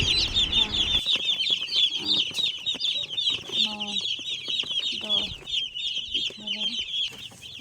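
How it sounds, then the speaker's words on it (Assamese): About fifty young chicks in a coop cheep constantly in a dense, high-pitched chorus while drinking water, with a low voice briefly audible in the background. "50টা আছে আৰু পোৱালি পানী খাইছে"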